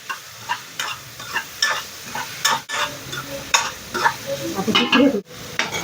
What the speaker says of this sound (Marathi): आणि आता ह्याला चांगलं मिक्स करून घ्यायचं